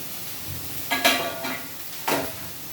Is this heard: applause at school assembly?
no